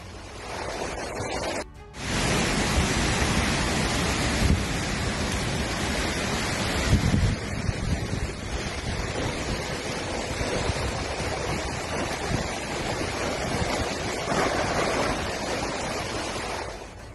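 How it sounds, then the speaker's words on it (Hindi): Hurricane Beryl drives strong winds and heavy surf, a loud, roaring wall of wind and crashing water that surges and swells throughout, briefly cut near the start. "खतरनाक तेज हवाएं चल रही हैं और इसी की वजह से बेरिल तूफान और मजबूत हो गया है।"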